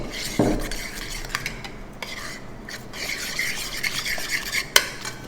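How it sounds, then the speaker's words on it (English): A spoon stirs potato salad seasoned with herbs, salt and pepper in a bowl, giving close, uneven scraping and clinking of utensil against dish, with a sharp knock near the end and no voices. "Give that a good stir."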